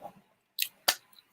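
Someone eating fruit snacks indoors, giving a couple of short, close, wet chewing and squishing bursts separated by quiet gaps.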